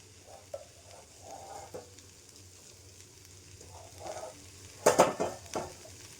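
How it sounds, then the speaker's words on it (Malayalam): Crushed shallots and garlic hit a pan of cooking taro with a faint sizzle and some quiet stirring, then a louder burst of frying and scraping near the end. "ഞാൻ അതിനകത്തേക്ക് കൊച്ചുള്ളി ചതച്ചതും വെളുത്തുള്ളി ചതച്ചതും ആഡ് ചെയ്യുകയാണ്."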